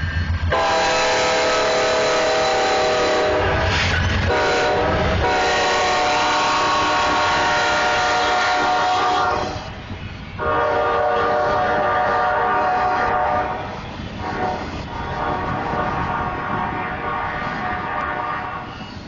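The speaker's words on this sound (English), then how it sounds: "This is Rico's first train" A train passes close by with loud, continuous rumbling and rail noise, sounding its horn in long harmonic blasts with brief gaps between them.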